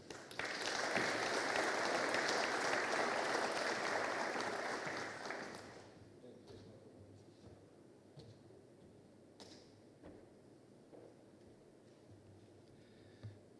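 A hall audience applauds Romanian Senate President Nicolae Ciucă at a book launch, a dense, loud burst of clapping that fades after about six seconds into quiet room tone with a few faint knocks.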